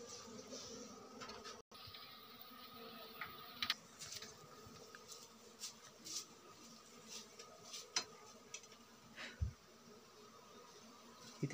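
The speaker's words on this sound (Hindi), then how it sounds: "इतनी सारी मधुमक्खियां हैं" Honey bees buzz during a honey harvest in the mountains of Chamoli, Uttarakhand. The soft, steady swarm drone comes with scattered faint taps and rustles.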